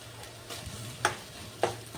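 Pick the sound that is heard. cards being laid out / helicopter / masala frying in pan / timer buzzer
masala frying in pan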